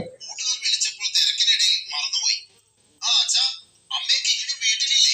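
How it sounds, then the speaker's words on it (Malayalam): A mobile phone rings during a one-man stage play, its bright electronic ringtone sounding in repeated melodic bursts separated by short pauses, fairly near and clear. "സനീഷിന്റെ ഫോണല്ലേ അടിക്കുന്നത്?"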